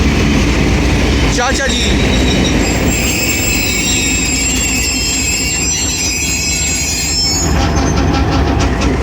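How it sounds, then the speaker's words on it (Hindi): A passenger locomotive rolls through Attock City Junction with loud metallic wheel squeal and rumbling rail noise close by, while someone speaks briefly over the din. "ये लोकोमोटिव कुंदियाँ तक जाएगा"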